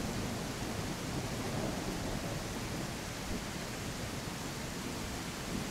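In the video game Tribe: Primitive Builder, rainfall pours down as a steady, loud broadband rush with a slight low rumble underneath. It holds unchanged the whole time, with no voices.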